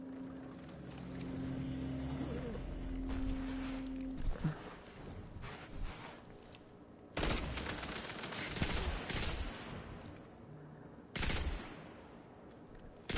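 Gunfire during a Destiny 2 PvP match, with repeated loud bursts of shots over a droning engine-like background, the heaviest volleys hitting near the middle and toward the end.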